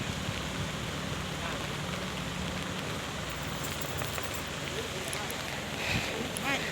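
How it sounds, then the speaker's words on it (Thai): Steady rain falls outdoors at the site where a six-wheel truck loaded with timber has tipped over, a constant even hiss of drops under a soft wash. Voices talk faintly over it. "ตะแคงเลยค่ะฝนก็ตกค่ะตอนนี้"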